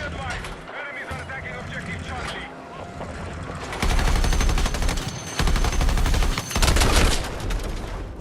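Gunfire in the video game Battlefield 6, dense bursts of automatic fire and explosions that grow louder halfway through, with a player talking over the battle.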